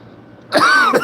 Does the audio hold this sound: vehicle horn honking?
no